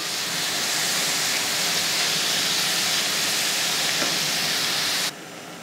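Instant Mama noodles deep-frying in hot oil give a steady, loud, dense sizzling hiss that holds evenly for about five seconds, then drops abruptly to a quieter background hiss.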